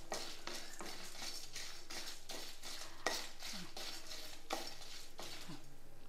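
Mutton masala with curry leaves is stirred in a pan, producing a steady scraping and swishing with light clinks of the utensil against metal and a faint sizzle underneath, with no talking.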